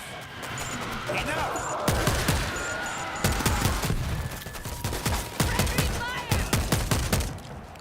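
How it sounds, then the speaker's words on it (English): Auto turret gunfire crackles in the World War Z video game, rapid bursts of shots coming in clusters over a busy game mix, with a player's voice talking now and then. "I got an auto turret running"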